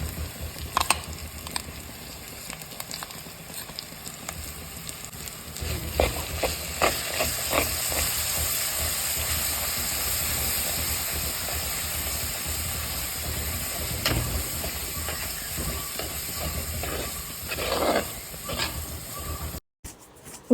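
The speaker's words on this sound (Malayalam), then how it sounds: "ഉള്ളി വഴന്ന് കഴിയുമ്പോഴേക്കും എടുത്ത് വെച്ചിരിക്കുന്ന വലുപ്പത്തിൽ അരിഞ്ഞിരിക്കുന്ന ചുവന്നുള്ളിയും ഇഞ്ചിയും 2 തണ്ട് കറിവേപ്പിലയും കൂടി ഇട്ട് കൊടുക്കാം." Chopped shallots, ginger and two sprigs of curry leaves frying in oil for a Kerala-style fish curry, giving a steady soft sizzle with occasional stirring scrapes against the pan and a constant low background hum throughout.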